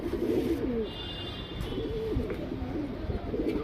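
Male Pilanka pigeons coo with low, rolling, repeated calls, a few bursts in steady succession over faint background noise, close to the listener.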